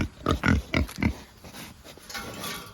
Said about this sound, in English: my pigs are yelling for me to come say hello